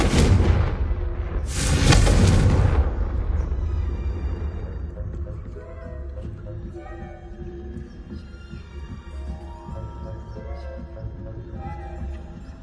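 A Confringo blasting curse in a Harry Potter video game goes off as a deep, loud explosive boom that rumbles out and fades over several seconds into lower background game sounds.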